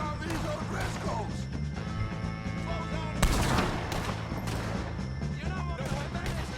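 Gunfire in the video game Red Dead Redemption 2, a busy shootout with repeated shots and a louder crack midway, layered over game music and voices.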